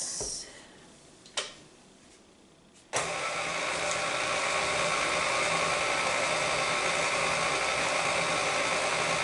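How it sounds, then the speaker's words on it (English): Electric stand mixer whirring steadily as it mixes lime cake batter, a continuous loud motor drone starting abruptly after a few faint clicks and bumps, running unbroken to the end with no talking. "Then you just need to turn on the mixer and let all that stuff mix up."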